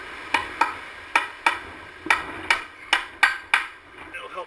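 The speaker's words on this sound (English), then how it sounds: "I'm gonna stick another little nail right here" A hammer drives a nail into gable roof framing, about ten sharp, evenly spaced strikes at close range with a light ringing decay.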